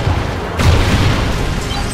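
A Trinity Rocket detonating in Call of Duty Ghosts multiplayer, a loud close deep boom that bursts out and rumbles on without fading, no voices over it.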